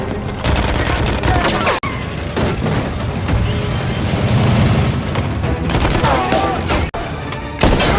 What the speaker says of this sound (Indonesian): terjadilah aksi tembak-menembak antara polisi dan pencuri